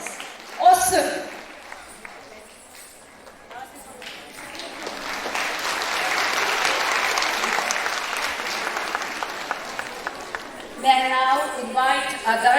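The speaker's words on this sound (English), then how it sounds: "A huge round of applause to her and the students for such a scintillating performance" Warm audience applause follows a school dance performance, swelling to a steady, dense clapping across the hall after brief talk, with a voice speaking again at the end.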